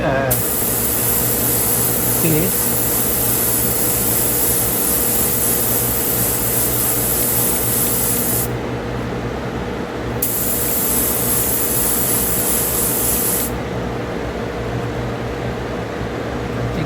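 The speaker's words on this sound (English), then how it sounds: "And now I will spray also this" Airbrush sprays paint onto a 3D printed figure, giving a steady close hiss that cuts out briefly twice, with a short spoken word near the start.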